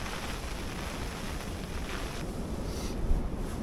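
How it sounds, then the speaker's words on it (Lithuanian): Strong wind roars across the microphone while fishing from a boat on open water with bottom-fishing gear, a steady broadband buffeting rush with no voices. "Tai toks vėjas."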